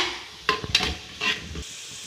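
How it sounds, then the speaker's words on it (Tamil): Chopped tomatoes for a chapati kurma are stirred in a frying pan, with a few quick spoon scrapes and clacks against the pan over a soft, continuous sizzle, close and moderately loud, with no talking. "தக்காளி, இதை சேர்த்து லைட்டாக கிண்டி விட்டால் போதும்."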